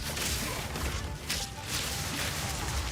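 A spell explosion in the action RPG Path of Exile 2 erupts in a dense, loud burst of crashing and whooshing game effects that rolls on for about three seconds amid ongoing combat noise, with no talking.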